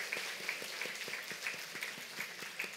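Light, rhythmic clapping from a church congregation during a Sunday worship service, greeting a newlywed couple; faint and distant with a regular beat, as if a small group claps in unison.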